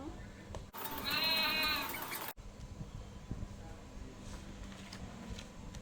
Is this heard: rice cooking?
no